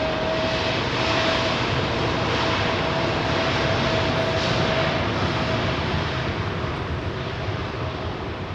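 A Singapore Airlines Airbus A380 jet at London Heathrow gives a steady, loud engine roar that fills the whole stretch without pause, with a faint thin whine running through it and no voices.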